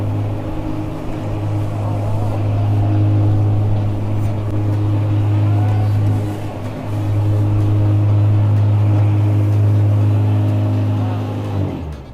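An electric Ariens zero-turn lawn mower drives and turns at a test facility in America, giving a loud, steady hum with strong low tones that dips briefly midway and then resumes.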